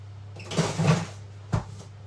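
A home oven door shuts after sourdough bread goes in to bake, giving a soft thud and then a second short knock, close by in a quiet kitchen.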